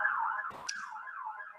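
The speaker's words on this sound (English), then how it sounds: "That's a fire engine." A fire engine siren wails outside in a slow, rising and falling sweep, distant and moderately faint, with a brief knock partway through.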